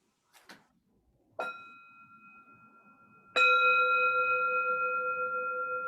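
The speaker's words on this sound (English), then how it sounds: "If you would invite the bell." A meditation bell is invited during a sangha gathering: a soft tap, then a gentle strike, then a full clear strike that rings out with a long, shimmering, slowly decaying resonance in a quiet room.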